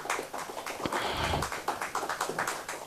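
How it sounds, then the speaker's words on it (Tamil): An audience gives itself a round of applause, a dense stream of quick, crisp hand claps at moderate loudness, steady throughout with no talking. "எல்லாருமே உற்சாகமான ஒரு கைத்தட்டல் நீங்களே கொடுத்துக்கலாம்"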